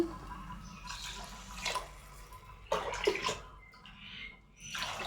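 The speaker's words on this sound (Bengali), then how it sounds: "এক বাটির জন্য দু বাটি জল আর দু বাটির জন্য চার বাটি জল দিচ্ছি" Water is poured into a pot of rice for basanti pulao, splashing and gurgling up close in a few uneven bursts with no one talking.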